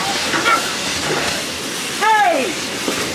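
Broad, loud steam hissing from the Walt Disney World Railroad steam train at Magic Kingdom, a continuous close rush of vented steam with a couple of brief whistle-like tones rising over it.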